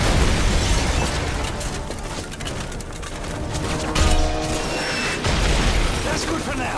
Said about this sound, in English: Keep firing a mortar!